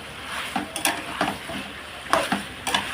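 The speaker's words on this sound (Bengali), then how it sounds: "দেখেন সুন্দর করে কষানো হয়ে যাচ্ছে আমাকে" Chicken sautéed in a little oil in a kadai over a gas flame, with a soft sizzle under repeated scraping and stirring strokes against the pan at an uneven rhythm, close by.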